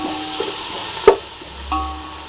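Coriander frying in a pan for a kuppaimeni soup, a faint steady sizzle with one sharp utensil clink and a later scrape, close and quiet with no talk.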